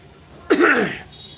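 A single sharp, harsh burst from a person, a cough or sneeze-like explosive exhale, close and loud, lasting about half a second amid quiet.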